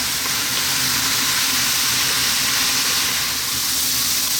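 Onions and eggplants frying in a pan over high heat, a steady, loud, continuous sizzle and hiss at close range with no talking.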